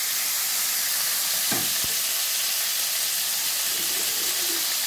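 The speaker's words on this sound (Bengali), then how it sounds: "ইলিশ মাছের মাথাগুলো সব ভেজে নিচ্ছি" Hilsa fish heads fry in hot oil in a home kitchen, giving a steady bright sizzling hiss throughout, with a couple of brief knocks from utensils partway and a faint hum near the end.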